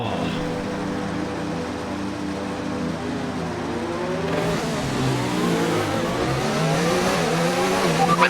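An F1 2019 race car engine in the video game, revving loud and close at the race start, its pitch rising and sweeping upward as it accelerates, with a faint tire squeal and no talk.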